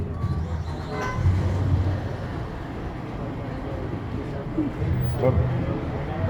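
A car horn honks briefly twice over steady traffic rumble, with people talking nearby.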